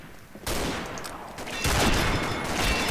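Rifle fire in the Combat Arms shooter game, including a Ruger Gunsite Scout Rifle: two sharp loud shots about a second apart, each followed by a sustained noisy tail of game action.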